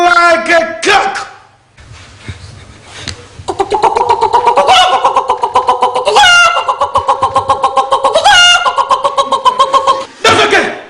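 A voice imitates a rooster crowing, giving several loud, drawn-out cock-a-doodle-doo calls one after another at close range, with rising and falling wavering pitch and brief breaks between calls.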